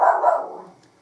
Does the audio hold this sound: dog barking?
yes